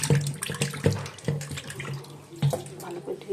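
Raw chicken meat is rinsed under a running kitchen tap, with steady close splashing and sloshing as the pieces are handled in the water.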